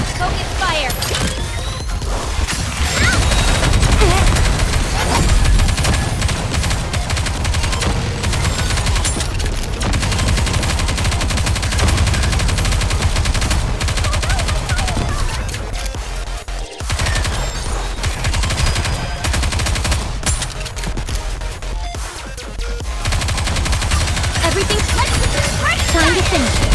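Sustained heavy gunfire in NIKKE: Goddess of Victory, dense machine-gun bursts and rapid shots with occasional booms, loud and nearly continuous, a few brief pauses, voices shouting over the fight.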